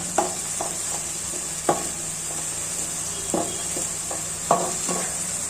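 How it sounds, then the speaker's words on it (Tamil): Ginger garlic paste frying for mushroom biryani, with a spatula scraping and tapping the pan in repeated strokes over a faint steady sizzle, close and without speech. "இஞ்சி பூண்டு பச்சை வாசனை போற அளவுக்கு நல்லா வதக்கிக்கலாம்."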